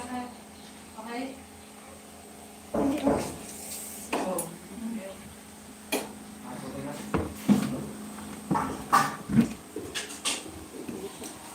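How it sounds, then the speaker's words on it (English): A kitchen drawer opening and closing, a series of short knocks and slides scattered across the clip under a person talking and background noise. "Then we have this drawer with coffee stuff."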